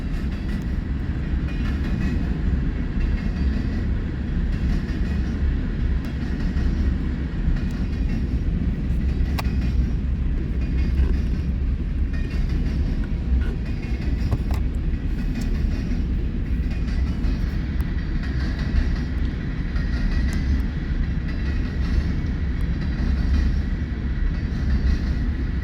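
Freight train rolling past with a mix of Union Pacific and other railcars, a steady loud rumble and faint wheel clatter holding evenly throughout with no talk.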